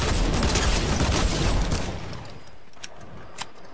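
Dense, continuous gunfire in Fortnite, a loud rattling barrage for the first two seconds that then thins to a few scattered distant shots.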